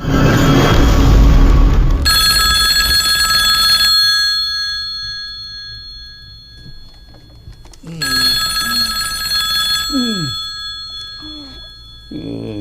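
An old-style telephone bell rings loudly in two bursts, a couple of seconds each, with voices talking in between and afterward.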